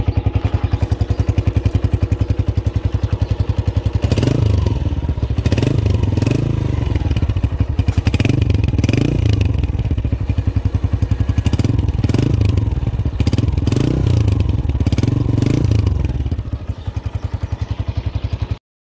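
A 2022 Honda CB125F motorcycle idles in a rapid steady putter, then its engine is blipped and revved repeatedly in rising bursts before settling and cutting off, loud and close with no talk.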